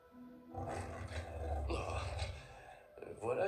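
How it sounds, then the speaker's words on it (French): A tiger roars in the Spider-Man 2 video game, a deep growling roar that rises and swells for a couple of seconds, with a voice mixed in around it. "Un tigre."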